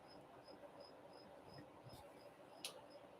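Gryllus cf. firmus field crickets from Fort Morgan, Alabama chirp in an even, regularly spaced pulse, faint and steady, with a couple of brief clicks near the end.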